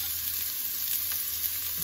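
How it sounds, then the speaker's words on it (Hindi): Onions fry in hot oil with mustard seeds for a Kerala-style moru, making a loud, continuous sizzle that holds steady and close throughout with no talking. "और प्याज डाल के हम इसे चला लेंगे."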